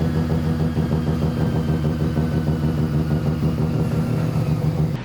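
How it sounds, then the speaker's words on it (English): A rotary-engine car running hard on a dyno, a loud, steady buzzing engine drone with a rapid pulsing rhythm that holds throughout before dropping off at the very end. "Chad was doing a little dyno run"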